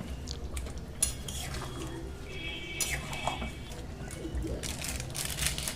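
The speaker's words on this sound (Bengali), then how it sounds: "10 মিনিট মতো হাই ফ্লেমে আমি চিকেনটাকে একটু রান্না করে নেব" Chicken cooking without water in a pan over high flame, with a spoon scraping and clinking against the metal in irregular strokes over a low sizzle.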